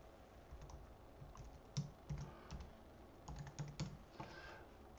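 Typing on a computer keyboard, a steady run of close, crisp key clicks with a few louder, sharper strokes, heard alone with no talking.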